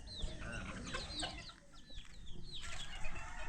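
Chickens cluck intermittently outdoors among free-range farm fowl, short calls recurring at moderate to faint distance over steady background ambience.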